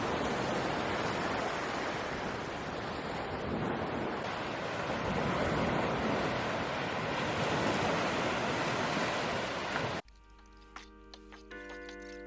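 Sea surf on the shore at Chanthaburi, Thailand, a continuous loud roar of breaking waves mixed with wind buffeting the microphone, cutting off abruptly near the end to a much quieter scene.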